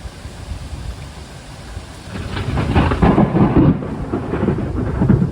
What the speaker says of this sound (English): The rains came sooner than expected